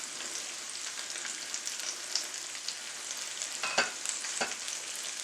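Beef birria quesatacos with melting cheese crisping in a hot pan, a steady close sizzle with bright crackle throughout and a few sharper pops near the end.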